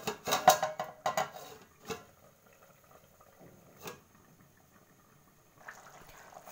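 Mushroom sabji cooks covered in a pan: a few quiet clatters at the start, then a faint, steady simmer and soft bubbling with an occasional light knock.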